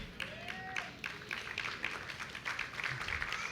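Church congregation giving a round of applause during a sermon, moderate and somewhat distant clapping with a few voices mixed in.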